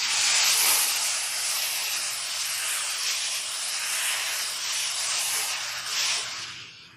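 A steam iron vents a sustained, loud hiss of steam during quilting, a steady broad rush that swells slightly and tapers off at the end, with no voices over it.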